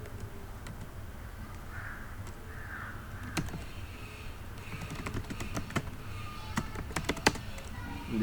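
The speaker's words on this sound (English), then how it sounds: "Then you just have to type in the FTP username and password." Computer keyboard clicked in a quick, irregular run of taps as an FTP username and password are entered, faint and close over a low room hum.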